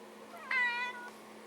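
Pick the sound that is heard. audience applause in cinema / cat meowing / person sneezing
cat meowing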